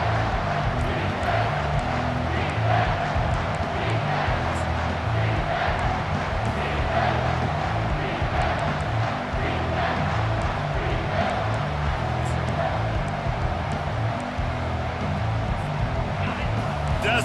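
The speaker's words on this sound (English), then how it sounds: "Decibels rising as the crowd gets behind this defense on 3rd down." A football stadium crowd roars steadily on third down, a dense, sustained wall of cheering under an announcer's talk, loud and unbroken throughout.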